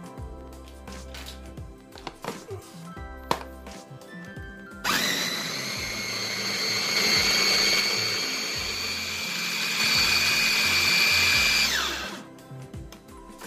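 Electric blender pureeing bananas with sugar, a steady loud whirring motor that starts abruptly, runs for about seven seconds with slight pitch swells, then spins down, preceded by softer clatter of kitchen handling.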